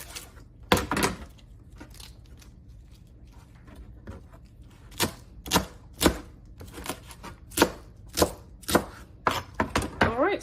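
Knife chopping a head of cabbage on a cutting board, a run of sharp uneven cuts that grows quicker and louder toward the end, with soft rustling between strokes.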